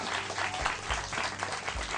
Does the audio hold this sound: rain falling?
no